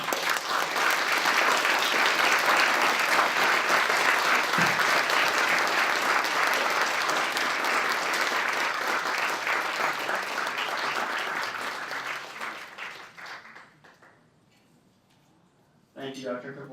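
A large audience applauds at a testimony event, dense sustained clapping that fills the room for about twelve seconds before tapering off into near silence, followed by a brief burst at the end.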